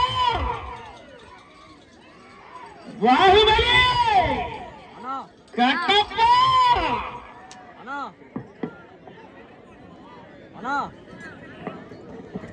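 A crowd at a bull race in Atluru cheers and shouts in loud bursts, roaring over an announcer's running commentary before settling back to scattered calls.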